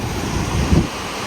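Seawater surges against rocks at Nusa Penida, with a low rumbling wash and strong wind buffeting the microphone. A brief heavier thud lands near the middle.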